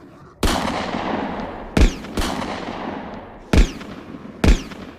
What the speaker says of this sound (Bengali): বাঘ লাফ মারার সঙ্গে সঙ্গে কেটা পরের পর 2 নলার গুলি চালাইল।